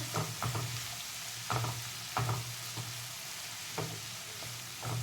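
Chopped onions sizzle in a pan while a spatula stirs them in repeated scraping strokes, the steady frying hiss broken by short bursts of stirring, close and with no talking.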